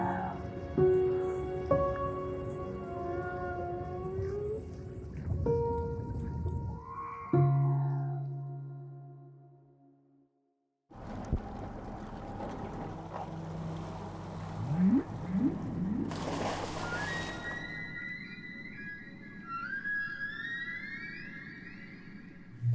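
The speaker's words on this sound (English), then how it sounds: "The sound of a humpback whale." Humpback whale song: long moaning calls, rising and falling whoops and high squeals, with a brief near-silent gap partway through, heard alone with no talk.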